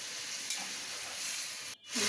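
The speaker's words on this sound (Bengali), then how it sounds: "আমরা মাংসগুলো হালকা করে ভাজবো" Chicken pieces fry in hot oil with bay leaves, a steady close sizzling hiss that briefly drops out near the end before surging back louder, with no talking.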